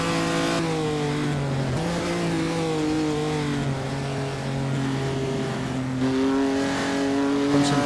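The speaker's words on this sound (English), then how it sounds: "Let you enjoy the engine sound." Race car engine in the Assetto Corsa racing game, a 1948 postwar Prix de Berne car, droning steadily and loudly throughout with rising and falling revs and gear changes, heard alone without talk.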